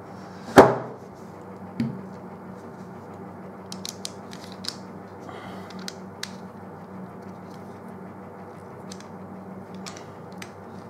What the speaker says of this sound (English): This is your battery compartment. Let's take this out.